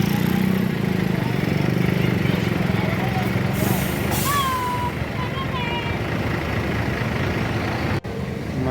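Buses, including MPM executive coaches, rumble into a busy Indonesian bus terminal, their engines droning steadily and loudly with a brief horn-like whistle partway through and a sharp cut near the end, crowd and background voices mixed in.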